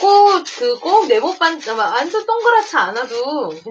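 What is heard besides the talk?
No everyday noises stand out.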